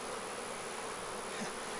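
Bees hum in a dense, steady buzz around an open beehive during a hive inspection, close and continuous without pause.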